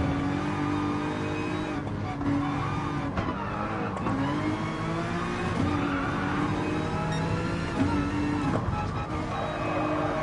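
Mercedes-AMG GT3 race car in GT Sport roaring steadily at full throttle, engine note rising and falling through gear changes, with tire squeal and the sounds of other cars racing nearby.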